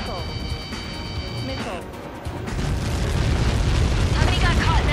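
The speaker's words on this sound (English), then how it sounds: "How many got caught in that explosion?" A huge explosion on impact in Ace Combat 7, a deep rumbling roar that swells and lingers. Radio chatter and jet noise run over it, and the blast builds into a heavy, sustained low-end boom.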